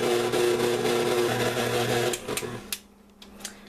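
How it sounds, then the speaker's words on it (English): Stand mixer kneading pizza dough for cinnamon sticks, a steady close mechanical whir and thump that runs for a couple of seconds before winding down to quiet. "I'm gonna let the machine knead it for a few minutes"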